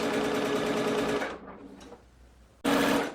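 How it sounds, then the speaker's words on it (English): A sewing machine set to a longer 3.5 stitch length hems a peasant top. It runs in a steady, loud, close whir, stops briefly, then starts again, with no voices. "I'm going to sew all the way around"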